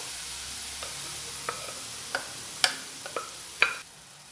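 Cooked mung beans stirred into a frying pan, a low steady sizzle broken by a handful of distinct scraping clicks and knocks of the spoon against the pan, close and moderately quiet.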